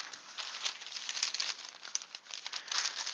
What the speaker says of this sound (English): Okay, we've got the parchment paper.